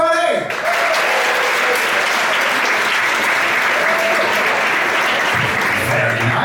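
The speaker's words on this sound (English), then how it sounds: "if you've been to Science Lab before, give me a round of applause, everybody!" A large audience at a science slam opening claps loudly and continuously in a hall, a full dense round of applause that sets in after a brief voice at the start and holds steady.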